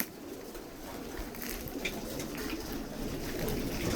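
Pigeons in a coop in Saudi Arabia give soft, low cooing calls amid a busy, noisy background with faint rustling, all fairly quiet and close.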